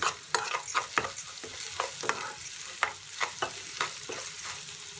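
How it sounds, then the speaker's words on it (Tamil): Green chillies and curry leaves sauté in a pan while being stirred, bright sizzling crackle broken by repeated scraping stirs at a steady, uneven rhythm, close and clear with no voices. "பச்சை மிளகா, கருவேப்பிலை ரெண்டையும் சேர்த்துடலாம். சேர்த்துட்டு ஒரு 2 நிமிஷம் நல்லா வதக்கிக்கலாம்"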